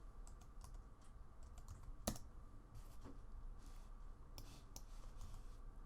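Quick bursts of typing on a computer keyboard while entering a layer name, a run of light key clicks with one sharper tap, close and fairly quiet over a steady background hiss.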